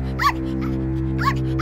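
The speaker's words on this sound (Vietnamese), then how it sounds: "khi chú chó Toto bắt đầu sủa thì con sư tử lùi lại và bắt đầu run lẩy bẩy" A small dog in a storybook sound effect gives a few sharp, high yappy barks, spaced apart, over a steady low droning background.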